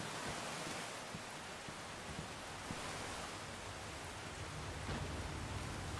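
Rain in the horror video game The Beast Inside, a constant, even hiss of falling rain at a low, steady level with no variation and no voices.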